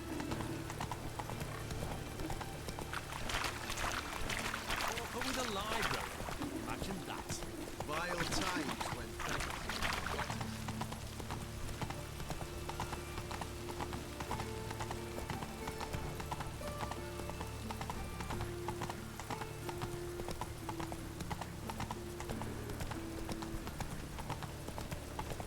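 The horse Roach in The Witcher 3 gallops along with steady, continuous hoofbeats heard close, with a brief whinny partway through and ambient game music beneath.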